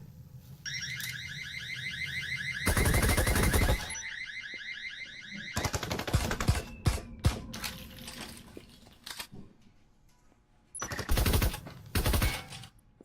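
Rapid bursts of automatic gunfire fire through walls in a VR shooter match, loud and close, in several clustered volleys, with an alarm-like electronic tone looping between them.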